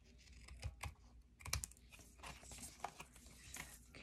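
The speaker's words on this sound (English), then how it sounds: "take my paper snips and I'm just going to cut off all the extra off of these here" Paper snips trim excess paper from the edges of a handmade greeting card, giving soft, close, irregular clicking snips and light crinkles in an otherwise quiet room.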